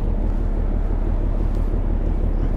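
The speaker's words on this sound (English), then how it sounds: "it's a bit windy" Steady, loud wind buffeting the microphone while fishing at Botany Bay, a continuous low roar and rumble with no pauses and no speech.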